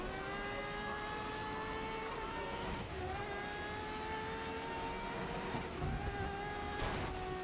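High-revving car engine in the GRID Legends racing video game, a steady, loud whine holding near the top of its range with brief dips at gear shifts, continuous and alone with no talk.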